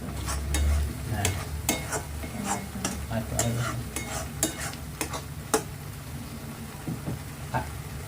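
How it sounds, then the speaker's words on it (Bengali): A spice mixture fries in oil for doi katla, a Bengali fish curry. A spatula scrapes and clacks against the pan in a steady stirring rhythm over a constant low sizzle. "মানে যতক্ষণ তেলটা না ছাড়বে ততক্ষণ একটু ভালো করে কষাতে হবে।"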